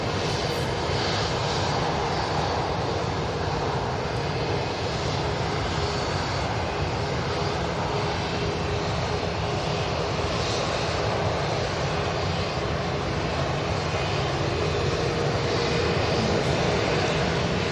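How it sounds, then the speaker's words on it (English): A business jet's engines roar steadily at close range during a takeoff at Manchester Airport, a continuous broadband rumble and hiss that holds loud and even throughout with no talk. "Bizjet's going to turn and burn"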